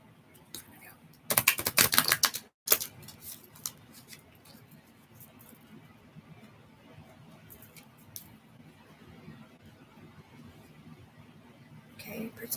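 A brief burst of crisp, papery riffling from shuffled oracle cards, close and loud for about a second, followed by quieter handling and faint talk.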